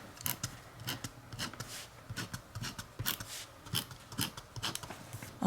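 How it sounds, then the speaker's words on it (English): Pet rabbits scuffle and scratch nearby in a quiet room, a busy run of soft rustling, scraping and tapping bursts with no talk. "if you guys hear a bunch of like noises in the background, it's just my rabbits being a little crazy."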